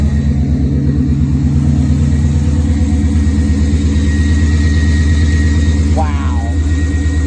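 A long-idle first car's engine settling into a rough, lumpy idle, a steady low mechanical rumble with an uneven pulse, close and loud throughout, smoke burning off the exhaust, with no talk over it.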